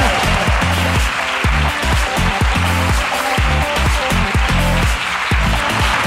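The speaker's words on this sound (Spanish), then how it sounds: "Aplauso para la Rosana de Ikea" An audience claps together in a steady, dense burst of applause, with rhythmic music playing underneath and no voices standing out.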